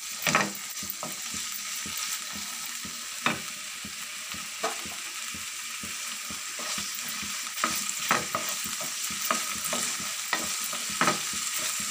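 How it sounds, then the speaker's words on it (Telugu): Green chillies fry in hot oil for biryani, a continuous hissing sizzle overlaid with frequent scraping and tapping strokes of a spoon stirring in the pan, close and steady, no talking. "ఇప్పుడు ఇందులో పచ్చిమిరపకాయలు వేసేసుకుందాం."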